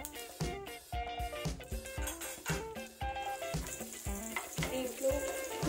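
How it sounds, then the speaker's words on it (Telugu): Palathalikalu frying in a pan, a steady close sizzle and crackle of hot oil with scattered pops, while rhythmic tonal music plays prominently over it and no one speaks. "అలా ఉబ్బేదాకా వీటిని వేయించుకుంటున్నాను."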